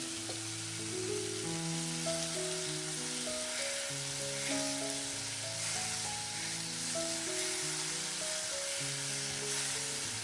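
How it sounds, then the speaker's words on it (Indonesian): Ground chili paste sizzles steadily in a hot pan while being stirred, a continuous bright frying hiss with background music tones running underneath throughout. "Ini cabai uleknya kita masukkan sekalian, lalu kita aduk rata kembali."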